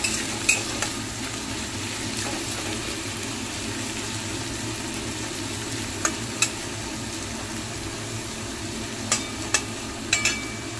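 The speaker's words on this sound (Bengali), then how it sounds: "এবার পেঁয়াজটা ভালো করে ভেজে নেব।" Onions frying and being stirred in a pan give a steady sizzle with a few sharp clinks of a spatula or utensil against the pan, fairly quiet, with no talking.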